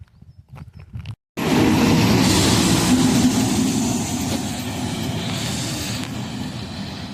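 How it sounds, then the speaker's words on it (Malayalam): An old diesel Czech train rumbles past close by near Bayerisch Eisenstein, a loud broadband roar that starts abruptly after a brief quiet moment and holds steady. "നല്ല മനോഹരമായ ട്രെയിൻ നമ്മുടെ നാട്ടിലൊക്കെ ഉള്ള പോലത്തെ പഴയ ഡീസൽ എൻജിൻ പോലത്തെ സെറ്റപ്പാണ്"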